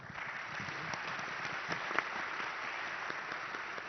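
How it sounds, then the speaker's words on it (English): Audience applause for a panel at an Egypt-EU investment conference, steady dense clapping from a crowded hall that carries on evenly throughout. "Round of applause for our panel."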